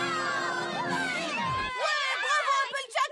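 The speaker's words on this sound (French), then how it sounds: "Applaudissez Applejack!" A cartoon crowd of ponies cheers for Applejack in a French-dubbed My Little Pony episode, with a whooshing effect sweeping down, then a burst of excited shouts and voices calling out together.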